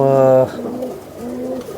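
A pigeon, a young bird in a fancier's loft, gives a loud, close coo at the start, followed by softer, lower cooing murmurs against the background.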